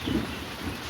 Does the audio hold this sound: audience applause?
no